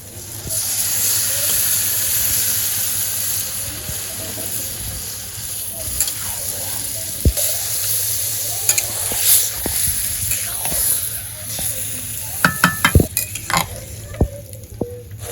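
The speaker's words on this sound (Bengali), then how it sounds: "মাংসগুলো দিয়ে দেই প্রথমে মাংসগুলো কষিয়ে আমি দিয়ে দিতেছি" Chicken pieces sauté for a village-style biryani with a constant loud hiss and sizzle in the pan, punctuated by clanks and scrapes of a utensil stirring, busier toward the end.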